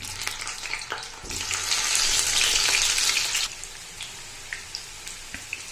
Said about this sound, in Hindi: इसमें हम लोग डाल देंगे आलू।